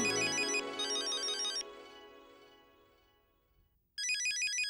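A phone ringtone plays in a loud electronic burst, cuts off into a fading tone, then starts ringing again after a brief silence.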